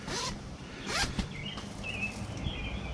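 A zipper on a truck tent is drawn in several quick, close pulls. Rasping strokes come in bursts with faint rustling of fabric between them, and no one speaks.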